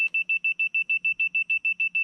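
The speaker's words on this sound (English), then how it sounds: "and I get that solid beep that we always look for" A construction laser level receiver, used to measure concrete height, emits a rapid, even train of high-pitched electronic beeps, about seven per second, clear and close, with no speech.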